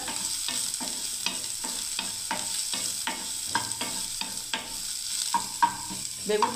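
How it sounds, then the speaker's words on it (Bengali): Eggplant pieces frying and being stirred in a hot pan, soft sizzle under regular scraping strokes of a spatula repeating roughly twice per second, close by and moderately loud, with no talking. "ভাজা হয়ে গেল বন্ধুরা। বেগুনটা"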